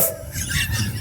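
A person imitates a dog barking, giving a short, close, yappy burst of vocal barks.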